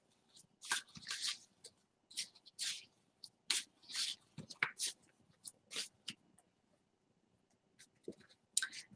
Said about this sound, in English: I'm gonna shuffle my cards.